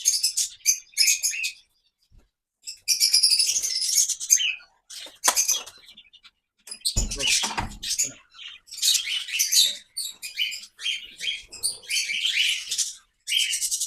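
Parrots in an open outdoor aviary chirp and squawk in repeated bursts of bright, shrill calls with short pauses between, fairly close and loud, with occasional wing flutters.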